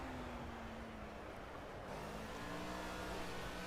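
A Caterham Superlight's engine drones steadily in the Project Cars racing game, one sustained tone that dips and then shifts pitch partway through as the car accelerates out of a corner.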